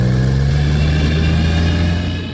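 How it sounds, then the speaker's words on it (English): A repaired car engine at an auto shop runs loud and close in a steady, even rev that holds for about two seconds and then starts to fade. "make your car sound like"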